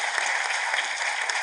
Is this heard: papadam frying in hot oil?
no